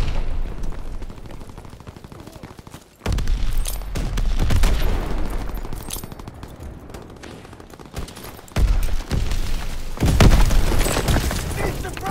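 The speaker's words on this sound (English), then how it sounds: "Charge exploded!" Call of Duty WWII combat with booming blasts and rattling gunfire, loud and dense, with a voice calling out over the chaotic battle noise.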